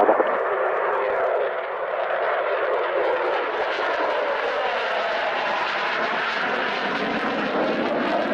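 A Gloster Meteor jet flying a display at Cosford gives a loud, continuous roaring rush that holds steady throughout, close and overpowering with no speech.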